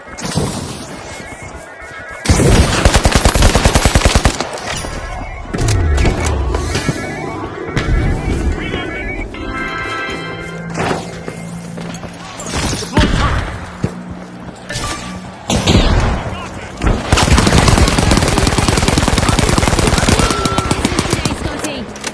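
Loud, rapid automatic gunfire rattles in The Finals, a competitive shooter, in long, dense bursts broken by short pauses, layered with heavy impacts and crashes from the game's action.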